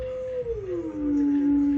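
An eerie, wavering electronic tone from a Moog Theremini theremin slides smoothly downward in pitch, then settles and holds, sounding somewhat like a distant howl.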